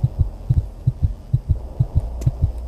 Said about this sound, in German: Warum haben wir Herzklopfen?